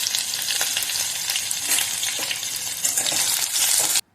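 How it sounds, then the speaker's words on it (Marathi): Onion sautés in hot oil with cumin and mustard seeds in a kadhai, giving a loud, continuous crackling sizzle with occasional stirring scrapes, then cutting off abruptly. "त्यानंतर कांदा टाकलेला आहे आणि कांदा आपण छान परतून घेऊया"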